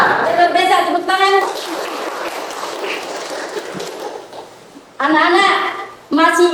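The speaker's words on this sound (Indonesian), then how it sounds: "Biasa, tepuk tangan." Classroom children clap their hands together in a brief, noisy burst of scattered claps, framed by a voice speaking before and after.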